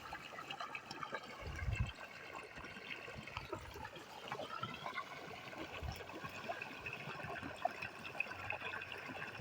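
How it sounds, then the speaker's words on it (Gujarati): Irrigation water flowing through channels in a pea field, a faint, continuous trickling and gurgling stream outdoors with occasional soft bumps. "અહીંયા જો પાણી આવે છે અહીંયા ભાઈ"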